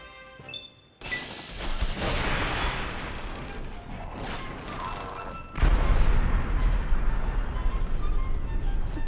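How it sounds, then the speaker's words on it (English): A Fat Man mini-nuke in Fallout 3 goes off with a sudden loud blast, then a long roaring rumble, and a second heavy burst of explosion noise follows that keeps booming to the end. "so I'm going to switch to the Fat Man, which is a mini nuclear bomb catapult"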